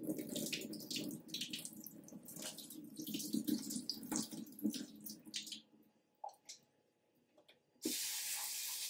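Running tap water splashes steadily into a sink while chayote is rinsed for a salad, dense and close for about six seconds, then tapering off, with a few light clinks and a brief fresh gush near the end.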